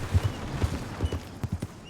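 A horse's hooves clip-clop in a video game, a quick uneven run of soft, muffled thuds at close range, plodding along with no other sounds over it.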